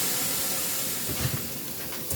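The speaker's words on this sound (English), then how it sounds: "we're going to let these steam until it's softened" Covered pan of jicama pieces steaming in a spoonful of water over medium heat, giving a steady, soft broadband hiss throughout with a couple of faint low bumps, no talking.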